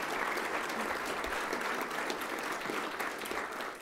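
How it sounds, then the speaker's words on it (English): Sustained applause from an audience at the Kern COG awards ceremony, steady dense clapping that holds at an even level throughout without breaks. "It'd be a really extended round of applause."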